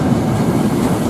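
Elite Argo Dwipangga passenger train rolling past close by, a steady loud rumble of wheels and carriages with faint rhythmic clatter, no talking.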